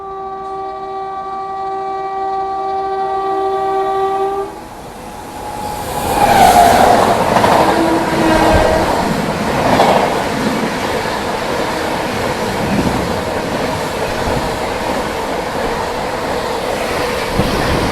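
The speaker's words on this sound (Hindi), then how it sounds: "ये आ रही है भाई डिब्रूगढ़ राजधानी एक्सप्रेस" Dibrugarh Rajdhani Express races through at about 130 km/h, opening with a long sustained horn, then a loud rush of wind and rapid wheel clatter as coaches sweep past close by.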